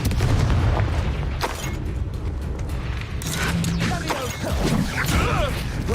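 Rapid spell casts in the Hogwarts Legacy video game produce a dense run of booming blasts, cracks and impacts that barely lets up, mixed with raised character voices.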